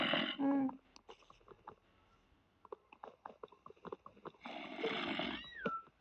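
A cat in a video game meows loudly at the start and again near the end, with soft clicks and tapping in between.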